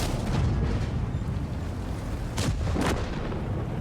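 Tank gun shots in an online tank battle game sound as heavy booming blasts over a dense, rumbling battle background, with two sharp shots close together near the end.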